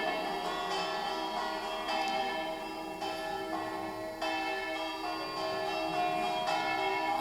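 Church bells in a bell tower at Codêr, struck to play a melody, ring in steady overlapping tones that sustain and layer continuously throughout, with new strikes arriving every second or so and no talking.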